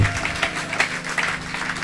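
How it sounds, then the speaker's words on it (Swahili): A church congregation claps for Jesus in a brief, dense burst of applause with many overlapping hand claps, fairly loud and close, with no clear speech over it. "Weka makofi kwa ajili ya Yesu, makofi kwa ajili ya Yesu."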